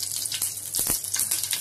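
Mustard seeds and cumin crackle and sizzle in hot oil, with quick popping bursts over a steady frying hiss, close and fairly loud.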